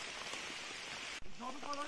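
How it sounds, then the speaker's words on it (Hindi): Heavy rain falling outdoors in a hilly forest area during the monsoon, a steady dense hiss throughout, with a brief dropout and faint voices emerging near the end. "झमाझम बारिश हो रही है"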